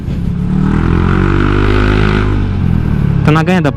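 A 2017 Honda Vario 125 eSP scooter with an aftermarket exhaust revs and pulls away with a loud, close, buzzing drone that holds steady, then drops off as a person starts talking near the end.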